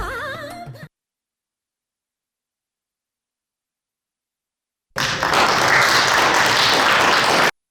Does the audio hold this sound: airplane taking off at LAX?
no